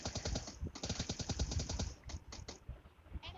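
Rapid bursts of automatic gunfire in PUBG Lite, crackling in tight repeated volleys, followed by a few separate shots.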